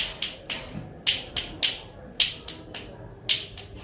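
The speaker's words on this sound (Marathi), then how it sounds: "एका हाताने कशी टाळी वाटते" A blind student performs one-handed claps, a string of about fourteen sharp, snappy cracks in an uneven rhythm, fairly close and crisp, with no talking.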